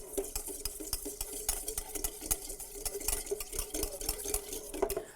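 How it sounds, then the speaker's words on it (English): Hand stirring of honey into a mixture for a homemade dressing, giving a steady run of soft scraping and light tapping clicks of a utensil against a bowl, fairly faint and continuous with no talk. "Stir it up just a little bit."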